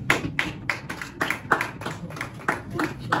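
A comedy club audience in Paris claps in rhythmic bursts, about ten sharp, evenly spaced claps over a few seconds, fairly close and clear with no talk.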